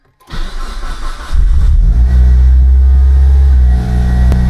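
A Mitsubishi Evo VI engine cranks briefly with the starter, catches and rises to a loud, steady idle, close up and alone.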